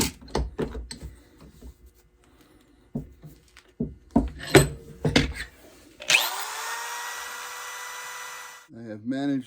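Hand tools knock and clatter against a hard drive, then a power drill spins up into a loud, steady high whine as it bores into the drive for a couple of seconds before winding down.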